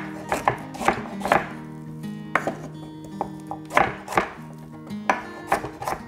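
A knife chops a parsnip into quarters on a cutting board, sharp distinct thuds landing in small irregular clusters, close and fairly quiet, with no talk.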